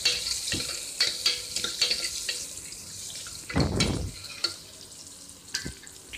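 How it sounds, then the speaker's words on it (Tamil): Small cut onions frying in hot oil in a pan as a goat trotter curry is cooked, a close sizzling crackle with repeated sharp clinks of stirring and a brief louder gush partway through, no talking. "சின்ன வெங்காயத்தை இந்த மாதிரி கட் பண்ணி போட்டுருவோம்."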